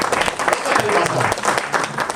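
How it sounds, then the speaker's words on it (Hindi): A seated audience at a one-day leadership training programme gives steady, dense applause, many hands clapping together at moderate loudness while a voice speaks over the clapping. "एक बार जोरदार तालियां नेमपाल जी।"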